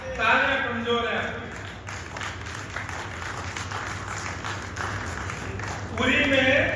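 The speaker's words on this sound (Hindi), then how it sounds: "तालियां कमजोर है।" Audience applause at a Hindi comic poetry recital (kavi sammelan) in Bundi: a steady wash of many hands clapping fills the middle, with a voice speaking before and after it.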